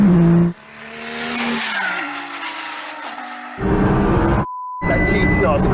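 A Nissan GTR, a modified Audi R8 and a modified McLaren 720S drag race with loud engine roar and rising revs, heard from inside a car, with a brief cut to silence and a steady tone near the end, and voices over it.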